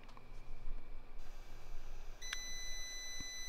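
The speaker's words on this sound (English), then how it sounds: "Beep." An EdenPURE quartz heater, suspected of a burnt wire or fried heating element, gives a single short electronic beep as it is switched on. A second faint click follows against a low steady room hum.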